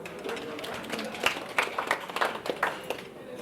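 Clapping from a group of old school friends at a year-end reunion approving two auditors, a modest scattered round of hands with sharp individual claps, moderately close, with some voices mixed in.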